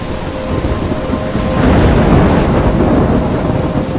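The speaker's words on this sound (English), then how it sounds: "I'm trapped in a storm?" A heavy thunderstorm in Life is Strange, with a loud, dense wash of rain and a deep thunder rumble swelling midway through, no voices.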